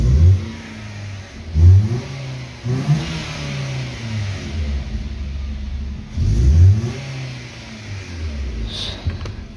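A 2008 Nissan Sentra with an accelerator pedal fault (P2127 code) revs its engine in several loud, close bursts, each rising and falling back toward idle, with brief lulls between the surges.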